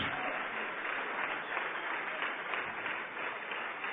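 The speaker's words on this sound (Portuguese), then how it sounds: "Vamos aplaudir mais ao Senhor Jesus." A church congregation applauds during a service, a steady, even wash of many hands clapping that continues without a break.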